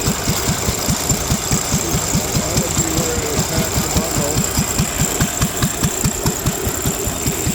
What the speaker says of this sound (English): they had powered some of these with a gas engine